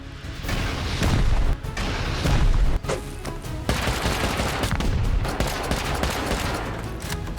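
A turret in a mountain survival video game fires rapid bursts of gunfire, loud and dense, with brief pauses between volleys and crashing impacts mixed in.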